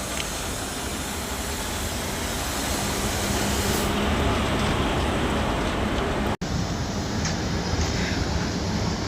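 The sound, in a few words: freight goods train passing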